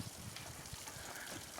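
A small waterfall splashes and trickles steadily at moderate distance, a soft continuous wash of falling water with no one talking.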